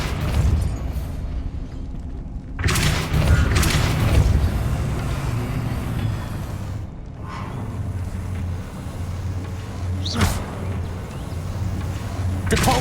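Repeated spell blasts of Depulso in the Hogwarts Legacy game, several booming whooshes with deep low rumble separated by a few seconds over continuous ambient game sound.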